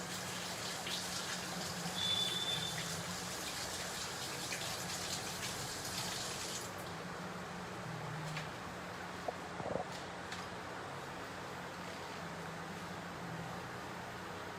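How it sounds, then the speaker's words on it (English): Tap water runs in a steady broadband gush while hands are washed in a home kitchen, fairly loud and continuous, easing slightly partway through with a few small knocks near the end. "So I'll quickly wash my hands meanwhile for crumbling this."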